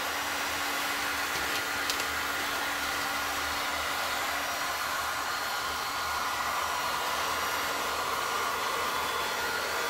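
A hair dryer with a skinny nozzle blows steadily on resin to shape a 3D wave, a loud continuous whooshing hum with no talk.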